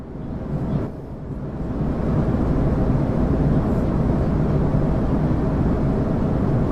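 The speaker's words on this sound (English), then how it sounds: "this is the sound of an Airbus A320 in the cabin with people on board" A steady, broadband roar fills the cabin of an Airbus A320 in flight with passengers aboard, a constant low rumble without distinct events.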